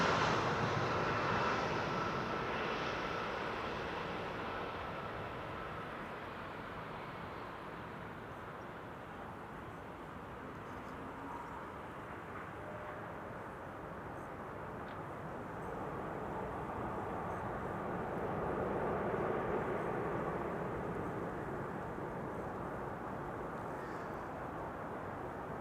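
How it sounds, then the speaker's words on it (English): An Emirates Airbus A380 on final approach into Amsterdam Schiphol makes a faint, distant jet roar that swells, eases and rises again, steady and unbroken, with wind in the background. "the Emirates A380 is on final"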